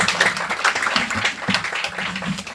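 An audience at a Punjabi book launch and award ceremony claps loudly and steadily throughout, a dense, close wash of many hands with no clear pauses.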